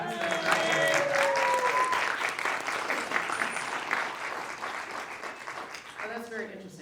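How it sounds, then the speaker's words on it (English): An audience at a red carpet film premiere claps in a steady burst of applause that fades slowly, with a voice speaking over the opening and the end. "You want to raise your hands so we can give you a round of applause?"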